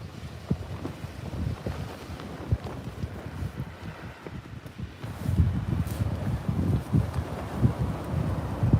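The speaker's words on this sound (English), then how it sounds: "Oh, that wind." Wind gusting on a West Sussex beach during ray fishing, a steady low rumbling buffet against the microphone that grows stronger in the second half, with no voices.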